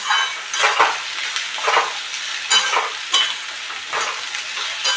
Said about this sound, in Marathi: कांदे भेंडी एकत्र फ्राय होते